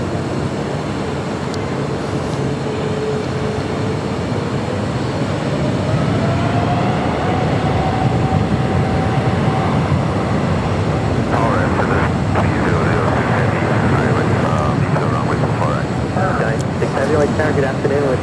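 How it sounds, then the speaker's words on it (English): An Air France Boeing 777-300ER jet at LAX roars loudly and steadily at close range, with its engine tone slowly rising and shifting as it passes, mixed with broadband rumble and voices speaking underneath. "777-300ER heading back to Paris."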